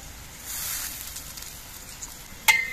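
Reddish-fried potatoes crackle gently in hot oil as turmeric powder goes in, a faint soft sizzle that swells briefly, then a sharp metallic clink near the end.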